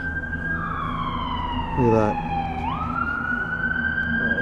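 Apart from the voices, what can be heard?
police sirens wailing in Leakin Park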